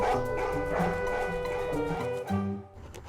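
Dog giving short yips and bow-wow barks mixed with whimpers, fairly close over a musical background, ending in a quieter tail.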